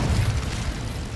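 A fire spell cast in Hogwarts Legacy bursts out as a loud, low whooshing roar that holds steady for about a second, with no voices over it.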